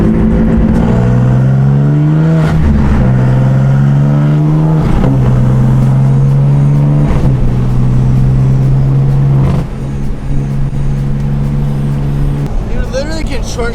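Loud car engine revving and accelerating while driving, a steady strong drone with rising gear pulls and brief dips at shifts, running continuously up close through the whole stretch.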